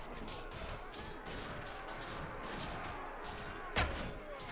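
Crossbow and ranged-weapon volleys in a Mount and Blade battle, a dense crackling barrage of rapid shots with one sharper loud impact near the end, continuous and fairly close, without voices.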